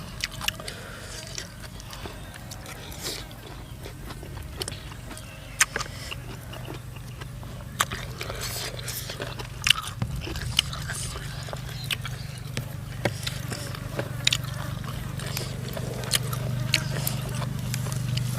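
Crispy squid being chewed up close, with irregular crunchy bites and soft squelching over a low steady background hum, alongside occasional quiet Thai talk.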